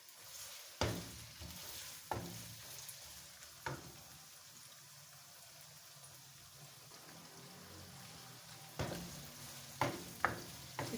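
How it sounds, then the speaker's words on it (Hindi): Chopped onions sizzle in hot oil for chicken biryani, a steady crackling hiss broken by several sharp clinks and scrapes of stirring, close and moderately loud, with no voices. "ऑयल गर्म हो गया है। प्याज शामिल कर दिया है।"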